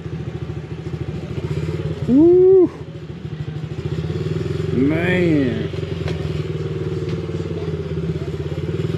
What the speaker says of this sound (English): Got us a sweet little tractor.